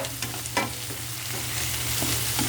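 Shrimp and garlic frying in a pan while being stirred, a steady close sizzle with scraping stir strokes over it, loud and continuous with no voices.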